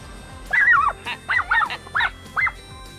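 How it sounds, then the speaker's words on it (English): A puppy named Dora barks excitedly at a horse dressage test, giving four quick, high, yelping barks in a close, uneven burst. "Dora could no longer hold her excitement in and barked quite a lot"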